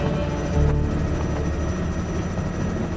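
Two helicopters flying over the Chipanje Chetu bush during an elephant collaring operation, their steady rotor thump and turbine whine loud and continuous throughout, with no voices.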